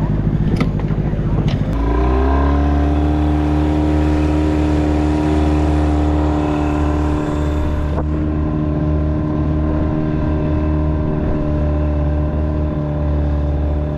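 A micro fast boat's engine runs loud and steady while warming up, a strong droning hum with clear harmonics after a brief rise in the first two seconds, with wind buffeting the microphone.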